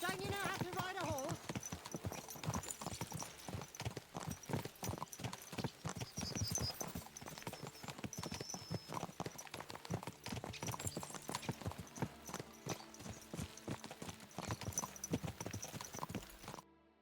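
Horse hooves clip-clop steadily and loudly in Kingdom Come Deliverance 2, a dense run of close, rhythmic strikes lasting throughout, with a voice heard over them.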